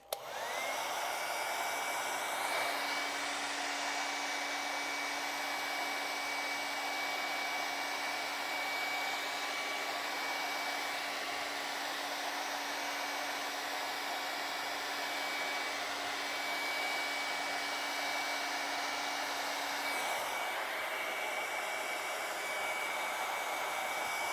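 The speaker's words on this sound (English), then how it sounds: "I'm going to use the hair dryer to speed that up." A hair dryer blows continuously at close range, a loud steady whooshing roar with a high whine, running for over twenty seconds.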